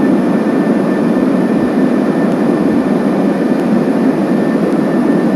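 A Boeing 737-800 jet engine roars loudly and steadily, heard from inside the cabin as an even, unbroken drone.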